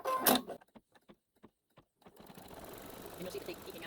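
Sewing machine stitching down quilt batting: a sharp start, then a few short isolated clicks, then a steady fast motor whir with rapid needle chatter that builds and holds near and moderately loud.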